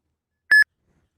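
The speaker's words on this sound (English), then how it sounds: "Your phone will start beeping" A single short electronic beep from a phone signalling an incoming Uber trip request, clear and loud, followed by silence.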